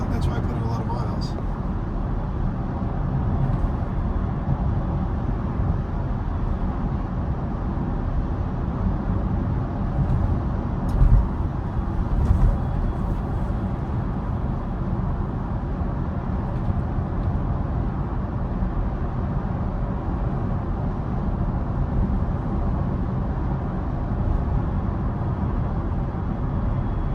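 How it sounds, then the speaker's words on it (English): Steady broadband road and wind roar inside a moving Tesla Model Y on a commute into Manhattan, constant and fairly loud throughout with a brief bump of louder noise partway. "You do hear some noise in this car. A lot of wind resistance,"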